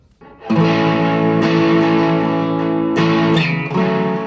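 An electric guitar freshly fitted with new strings rings out sustained, distorted chords through effects, loud and close, with several re-struck chords over about four seconds and no talking.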